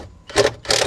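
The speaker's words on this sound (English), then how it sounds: "I'm using my Avid Power cordless impact wrench." An Avid Power cordless impact wrench works a bolt on a 1995 Jeep Wrangler windshield, giving two short, loud rattling bursts close up with a brief pause between them.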